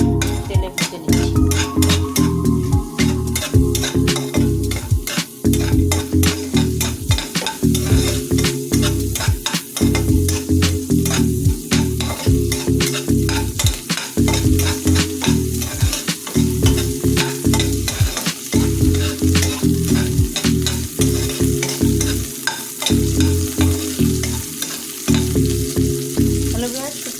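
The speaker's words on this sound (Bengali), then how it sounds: "তেলে ভেজে নিচ্ছি।" Dried puti fish fries in hot oil, sizzling loudly without pause while a utensil stirs and scrapes the pan in a brisk, repeated rhythm, with no talking.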